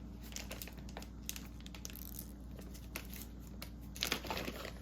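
Crinkling and crushing plastic as someone struggles to open the packaging of a Sephora Favorites lip set, with soft, close scratchy rustles through the whole stretch and a brief louder crackle near the end.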